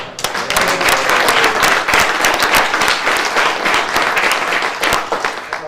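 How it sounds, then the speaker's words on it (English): An audience at a PIPOA special board meeting applauds steadily, dense overlapping clapping that stays loud and even for about six seconds before trailing off. "how about a round of applause for Paul?"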